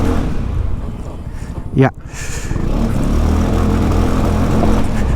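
A 2021 Yamaha XMAX 300 scooter revs on a slick, grip-less road with traction control engaged, with a loud, rough engine note after a brief rising whine, and a rider's voice heard close by.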